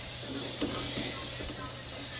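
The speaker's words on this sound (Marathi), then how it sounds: "आणि नंतर आता डाळ टाकून द्यायची" Moong dal tipped into a hot pan with spiced oil for a home-style pressure-cooker dal, giving a steady close hiss of sizzling steam that swells briefly and then settles, with no talking.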